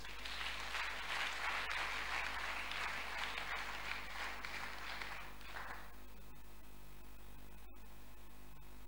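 A church congregation applauds during a sermon, with steady, moderately distant clapping for several seconds that then stops abruptly, leaving a faint hiss and hum.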